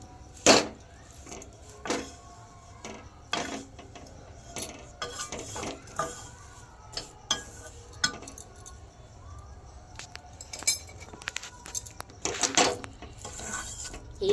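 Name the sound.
stirring jaggery and peanuts in a pan for chikki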